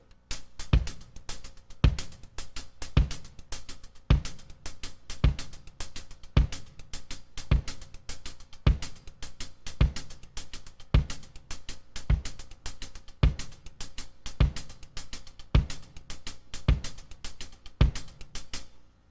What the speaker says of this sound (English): a variation, I guess you could say, of sort of a basic songo type of pattern using my hi-hat and bass drum